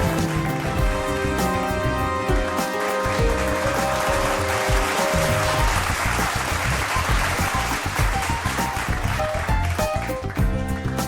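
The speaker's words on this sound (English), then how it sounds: "A huge round of applause for Janhvi Kapoor." Audience applause at an awards ceremony, the Indian of the Year 2025 event: a steady, loud wash of clapping filling the whole stretch, with music tones layered in at the start.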